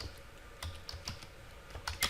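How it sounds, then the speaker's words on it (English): Computer keyboard keys tapped while entering router interface commands: a handful of quiet, irregular clicks with short pauses, close up in a quiet room, no talking. "I'm going to exit out of the subinterface, and I'm going to type interface"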